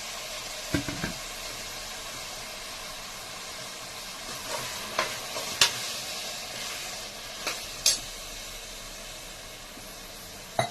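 Tomatoes and onions frying in hot oil with ginger-garlic paste in a pan, giving a steady, moderately quiet sizzle with occasional sharp clicks and knocks of a stirring utensil.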